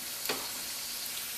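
Tortillas frying in hot home-rendered lard give a steady, close crackling sizzle throughout, with a brief brighter burst of spatter near the start; no one speaks.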